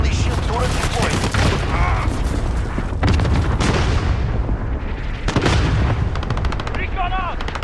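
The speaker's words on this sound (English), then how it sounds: "Allied cluster strike incoming." In Call of Duty: Modern Warfare, a cluster strike and gunfire burst in rapid bursts of shots and booming explosions, loud and dense throughout, with brief radio-style voice chatter layered over the combat.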